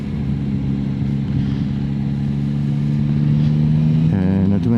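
Steady, loud engine drone of a 2025 Yamaha Tracer 9 GT motorcycle on a test ride, holding a constant pitch with wind noise, then a short rise in revs near the end.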